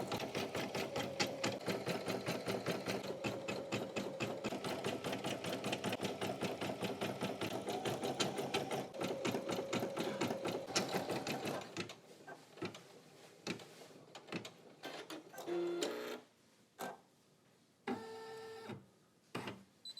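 An embroidery machine stitches a design in a 5x12 inch hoop, its rapid rhythmic needle chatter running loud and steady before breaking into short bursts and stops toward the end.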